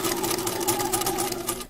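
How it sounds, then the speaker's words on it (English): Sewing machine running steadily at close range, a fast continuous mechanical hum as it stitches a strap onto the top of a tote bag, with no pauses or voices. "You will now sew the strap onto the top of the bag where you've pinned it and as you've marked it."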